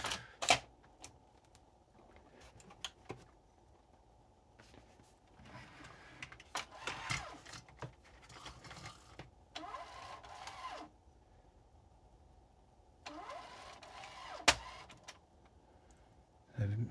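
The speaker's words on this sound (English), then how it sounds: "I'm hearing some kind of heavy clunking noises in here" Inside a Yamaha CDC-500 six-plus-one CD changer, the mechanism whirs in several short motor bursts, punctuated by sharp clicks and a few heavier clunks, faint and close with no talk.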